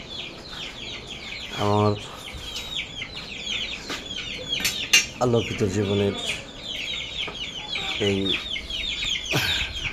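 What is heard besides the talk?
Brahma chickens clucking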